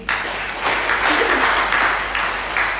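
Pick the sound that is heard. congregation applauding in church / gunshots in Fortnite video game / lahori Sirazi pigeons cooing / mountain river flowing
congregation applauding in church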